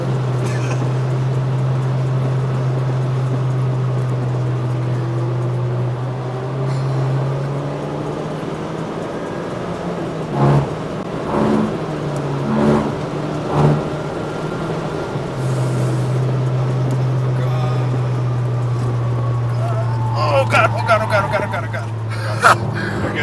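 An Acura RSX Type S sports car drives hard through mountain touge turns, a steady low engine drone running throughout with brief surges and pitch shifts as it works the corners, while occupants shout and talk excitedly over it.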